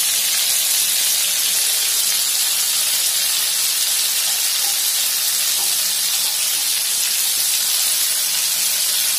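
Potato slices frying in oil on a flat dosa pan, giving a loud, steady, close sizzle that carries evenly through the whole stretch with no talking.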